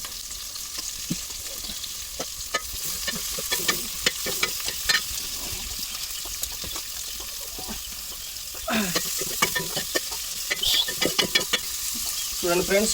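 Onions and spices sizzle and fry in a pan for chicken curry, with steady crackling broken by spoon-stirring scrapes, under occasional speech nearby.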